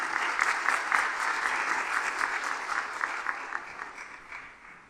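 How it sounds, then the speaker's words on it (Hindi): Church congregation applauding loudly, dense rapid clapping from many people that holds steady and then tapers off toward the end. "आए हम खुदा के जलाल के लिए जोरदार ताली बजाएंगे"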